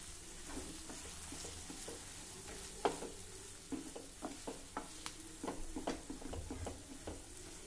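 Ground lentil paste sautés in oil in a pan, with a soft continuous sizzle under a run of repeated spatula scrapes and taps that grow busier toward the end.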